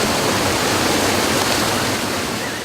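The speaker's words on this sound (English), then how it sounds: "Wow, now that's what I call a waterfall" A waterfall in Panama, a loud, steady, broadband roar of falling water close by with no voices.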